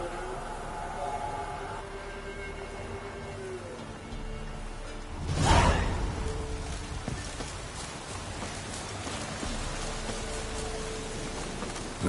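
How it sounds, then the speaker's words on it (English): Steady rain falling in The Witcher 3: Wild Hunt, a soft continuous patter with a brief louder gust or rumble swelling midway, faint ambient tones beneath. "Looks like rain."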